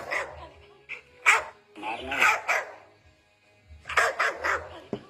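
A dog barks in several short bursts, fairly close, with people talking in French over and between the barks.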